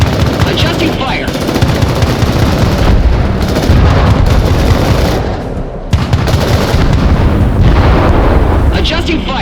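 Artillery pounds in Crossfire: Legion, a real-time strategy game. Heavy, continuous barrages of booming blasts and rattling gunfire play loud and dense, with a short lull before the firing resumes, and voices call out over the battle.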